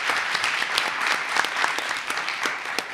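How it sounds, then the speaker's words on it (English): Steady applause fills the room at a school board meeting, many people clapping together at a moderate level for a few seconds. "Let's give her a round of applause."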